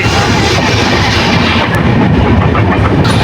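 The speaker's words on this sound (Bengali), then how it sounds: "দুটো ট্রেন এখন একই সাথেই চলছে" A train rolling along railway tracks, loud and close, a dense continuous rumble with clattering wheels on the rails and faint metallic squeals.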